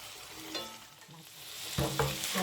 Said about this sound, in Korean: 국물이 거의 다 졸여졌어요. 마지막으로 한 번만 뒤집었다가